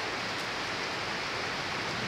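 Heavy rain pours down in a dense, unbroken hiss that stays loud and even throughout, with no voices.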